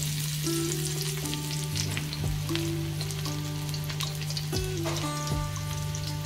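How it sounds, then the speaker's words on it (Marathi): Garlic dropped into hot oil for a stuffed mackerel fry crackles with a continuous close hiss and scattered pops, accompanied by steady sustained tones in the background, with no speech. "तेल तापलेलं आहे. आता आपण त्यामध्ये लसूण टाकणार आहोत."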